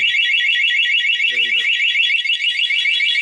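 A Raider 150 Fi motorcycle's security alarm blares nearby, a loud, rapidly warbling electronic tone that sounds continuously throughout.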